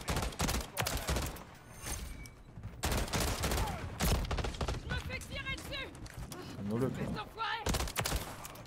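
Call of Duty MW3 gunfire, a rapid burst from a DG-58 rifle in an online match, crackles amid game effects while a player talks excitedly over it.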